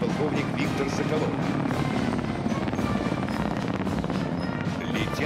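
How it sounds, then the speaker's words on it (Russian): Ka-52 Alligator attack helicopters fly low over a military parade, their rotors producing a loud, continuous thudding roar throughout, with an announcer's voice speaking over the noise. "В небе лучшие в мире ударные вертолеты К-52 «Аллигатор»."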